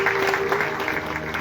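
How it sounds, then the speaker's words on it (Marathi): A theatre audience at a play's curtain call keeps up dense, even clapping, a brief, loud burst of steady applause with a faint held tone beneath it. "आणि जोरदार टाळ्या तुम्हा सगळ्याच प्रेक्षकांसाठी."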